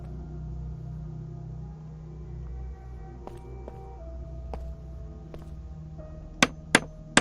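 Hammer strikes on a board in the survival game The Dead Linger, with three sharp, loud knocks near the end over a steady low ambient rumble.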